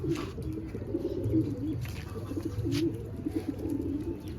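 Desi pigeons coo repeatedly nearby, soft low throaty calls rolling one after another, with a few faint chirps in the background.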